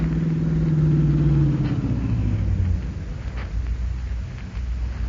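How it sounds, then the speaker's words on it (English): A car approaches in a 1945 detective radio drama, a deep engine rumble with a falling drone that is loud and close at first, then settles into a lower, rougher rumble as it arrives. "Here comes the bandit car."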